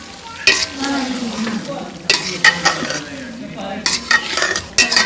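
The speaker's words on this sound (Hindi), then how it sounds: "अब हम इसमें फ्राई किए हुए आलू और अरबी डाल देंगे" Fried potatoes and arbi (taro root) tipped into a pan of roasted masala, stirred with repeated bursts of scraping and a steady sizzle of frying, close and fairly loud, with no talking.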